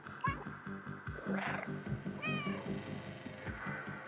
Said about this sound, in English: Let me meow.